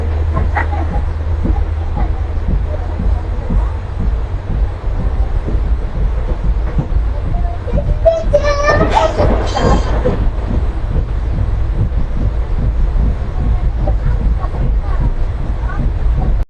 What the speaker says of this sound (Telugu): మండపం నుంచి అయితే ట్రైన్ స్టార్ట్ అయ్యండి